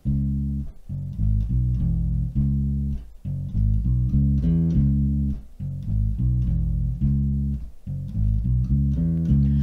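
Electric bass plays a two-bar soul riff, a steady run of punchy low notes with short gaps between phrases, loud and close with no other instruments.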